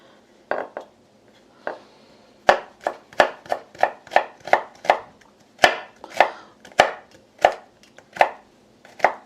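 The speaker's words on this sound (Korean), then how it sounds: "모양 있게 당근 좀 몇 개만 썰어 놓을게요" Knife chopping carrots on a cutting board, about twenty crisp, evenly spaced thuds that speed up into a steady rhythm, close and clear with no talking.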